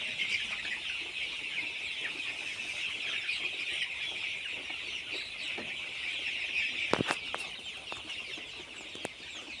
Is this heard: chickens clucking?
yes